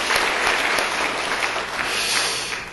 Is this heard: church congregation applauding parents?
yes